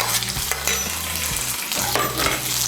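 Chopped capsicum stir-frying in oil, a steady close sizzle broken by repeated scrapes and tosses of a spatula in the pan, loud and continuous with no talking.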